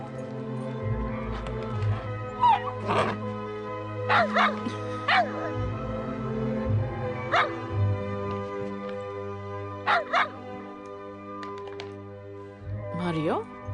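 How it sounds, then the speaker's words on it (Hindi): A dog in a Hindi-dubbed film scene gives a series of short, sharp yipping barks and whimpers at irregular intervals over a steady low background tone. "इसे देखकर क्यों भौंक रहे हो तुम?"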